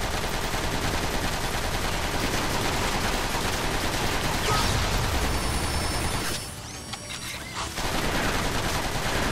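Rapid, dense gunfire crackles almost nonstop in Transformers: Rise of the Dark Spark, loud bursts layered into a continuous barrage that briefly drops out near the end before resuming.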